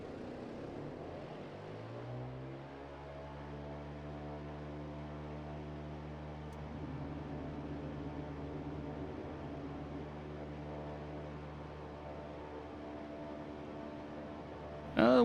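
Twin radial engines of a Grumman G-111 Albatross amphibious flying boat in MSFS 2024 throttle up for a takeoff roll on a long runway: a loud, steady propeller drone that climbs in pitch and holds, with a short clatter at the very end.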